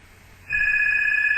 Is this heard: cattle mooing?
no